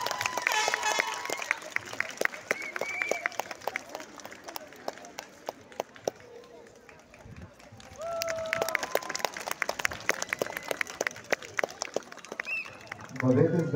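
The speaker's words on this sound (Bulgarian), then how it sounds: "Аплодисменти." An audience at a school farewell event applauds in uneven bursts of clapping, with crowd murmur and voices talking throughout.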